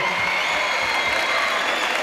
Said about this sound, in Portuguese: Se a gente merece palmas, bate uma salva de palmas aí que todo artista adora.